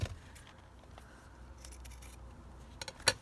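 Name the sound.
scissors trimming a ruffle off a junk journal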